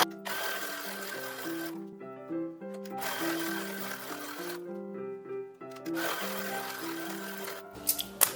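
A sewing machine stitches down a seam line on an infant dress in three close, steady runs, its motor hum rising and stepping in pitch, with short pauses between runs.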